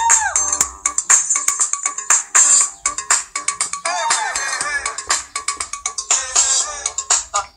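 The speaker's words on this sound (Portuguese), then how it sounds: "Vou colocar uma música bem conhecida aqui." A bright electronic melody plays loudly at maximum volume through the small speaker of an LG Volt phone, a steady run of quick synthetic notes with no voices.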